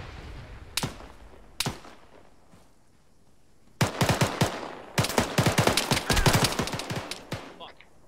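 Gunfire in the military shooter Arma 3: two isolated single shots, then loud bursts of rapid automatic fire cracking at close range, with faint talk underneath.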